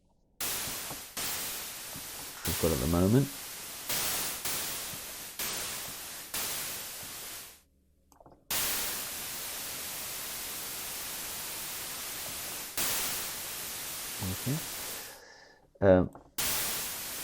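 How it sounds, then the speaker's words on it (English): Hissing white noise from the noise source of a Krakli S4 synthesizer comes in loud bursts that switch on and cut off repeatedly, with brief spoken remarks in the gaps. "We can have basic white noise,"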